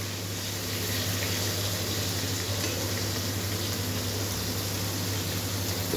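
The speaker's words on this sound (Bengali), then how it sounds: "পটলটা ভাজা চলছে।" Pointed gourd (potol) frying in oil gives a steady, continuous sizzle close by, with a low constant hum underneath and no talking.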